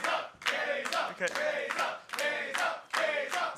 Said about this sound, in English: As the crowd chants